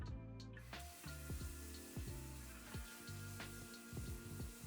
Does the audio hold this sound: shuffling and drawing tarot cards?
no